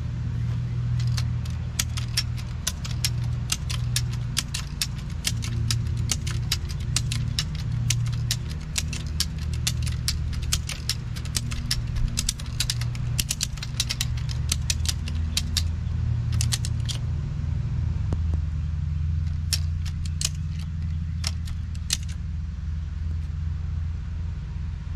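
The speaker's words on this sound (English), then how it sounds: "So I'm just gonna finish ratcheting that up" A ratchet strap is cranked repeatedly to lift a septic tank cap outdoors, producing a long run of metallic clicks in uneven bursts over a steady low engine-like rumble, close and fairly loud.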